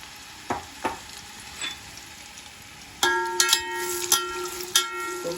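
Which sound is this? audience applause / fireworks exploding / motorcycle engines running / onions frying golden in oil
onions frying golden in oil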